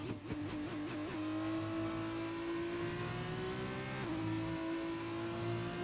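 An onboard Formula 2 race car engine in the F1 2021 video game at Emilia Romagna roars close and alone, revving with quick upshifts early, then holding a rising high-pitched howl with another gear change partway through.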